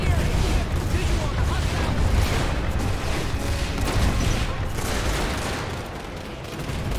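Turrets in Planetside 2 keep up dense, overlapping fire with booming impacts through the whole stretch, loud and chaotic, easing slightly near the end. A voice is heard shouting amid the gunfire.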